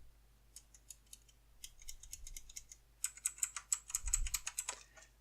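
Fingers clatter across an AULA F2012 mechanical keyboard with blue switches, sparse clicks at first, then a faster run of loud, crisp key presses near the microphone, with no voices.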